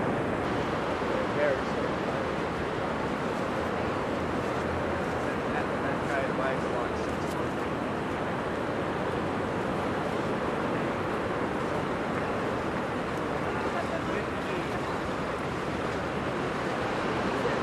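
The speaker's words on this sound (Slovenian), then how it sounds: "da ne bo mene zalilo to morje" Ocean surf washing onto a beach at Brisbane, Australia, a steady broadband wash with wind noise over the microphone, continuous and fairly close, with faint voices in the background.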